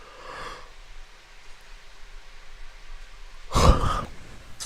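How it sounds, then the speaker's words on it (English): A single person gives one breathy yawn-like exhale near the end, a brief loud burst after a short faint breath at the start and quiet room noise between. "I'm sorry, just yawn."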